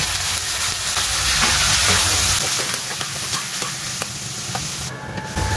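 Onion and chicken liver sizzle steadily in a hot pan for pancit canton guisado, a continuous close frying hiss with faint stirring scrapes and no talk.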